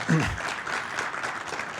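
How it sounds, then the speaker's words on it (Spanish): An audience at a lecture on Beato Anacleto González Flores applauds the speaker as he begins, clapping continuing evenly after a brief voice is heard at the start. "Con el aplauso de ustedes, da inicio."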